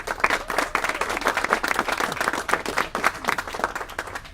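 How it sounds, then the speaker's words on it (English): An audience breaks into applause at a political press conference, a dense patter of many hands clapping at moderate volume that runs steadily throughout. "it's quite unusual to be applauded during a press conference"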